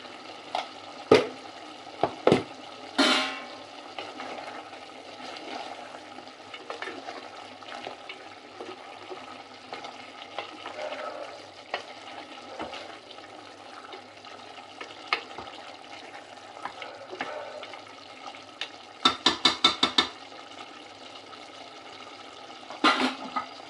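Chicken fry with chicken masala and coriander powder cooks in a pan on high flame, a steady close sizzle broken by sharp clacks and scrapes of stirring, with a quick run of taps near the end.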